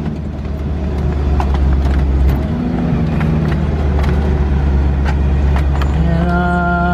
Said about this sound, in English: Alright, truck kind of loud.